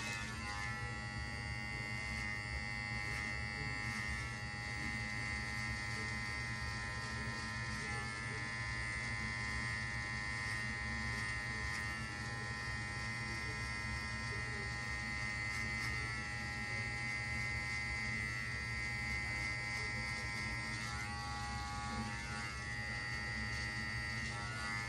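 Electric hair clippers with the guard removed and the lever fully open run steadily during a self-cut high taper, a continuous close buzz with a strong hum and no pauses throughout.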